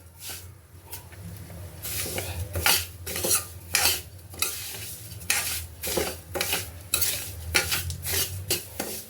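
Coarse semolina dry-roasting in a pan over medium-high heat, stirred constantly with a utensil that scrapes and clinks against the metal in steady repeated strokes, close and fairly loud with no voices.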